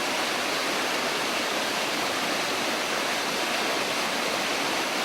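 A monsoon waterfall in a rain-soaked plantation gives a steady, close, full-bodied roar of rushing water, unbroken and even throughout, with no voices.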